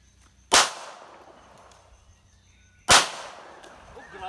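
Two sharp, loud gunshots from a real handgun fired by a first-time shooter, about two seconds apart, each cracking sharply and then ringing off with a decaying tail.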